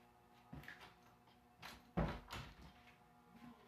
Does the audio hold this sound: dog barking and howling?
no